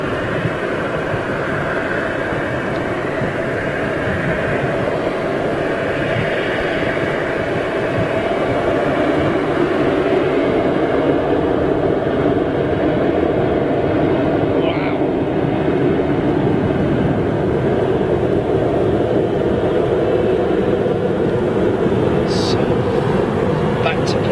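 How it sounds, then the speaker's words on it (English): A Jet2 Boeing 737-800 with CFM56 engines at Manchester Airport gives a steady, broad roar that holds loud and close throughout, with a voice talking over it. "737-800, indeed that is, right there with Jet 2. CFM 56 engines."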